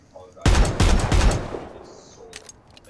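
R45 revolver shots in a video game: a quick burst of about three loud, sharp reports in the first second, their echoes trailing away into quiet.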